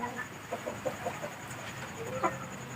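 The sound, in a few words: chicken clucking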